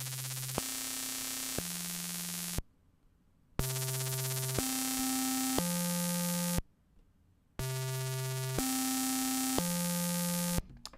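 AudioDamage Grind distortion plugin processing a synth waveform, harsh buzzy distorted tones stepping through a repeating three-note pattern in blocks of about three seconds, separated by brief near-silent gaps.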